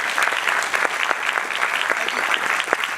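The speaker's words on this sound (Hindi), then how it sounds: "एक बार आप एकेडमिक टीम के लिए ताली जोरदार बजाओ" An audience applauds the academic team at a GATE exam preparation talk, a dense, steady wash of many hands clapping at close range with no talk over it.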